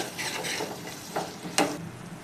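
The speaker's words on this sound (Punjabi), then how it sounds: "ਇਹਨੂੰ ਆਪਾਂ ਚੰਗੀ ਤਰ੍ਹਾਂ ਮਿਲਾ ਦੇਵਾਂਗੇ" Spoon stirring salt into a tomato and red chili chutney, a few soft scraping and sizzling strokes close by, with one sharper clink near the end and no talking.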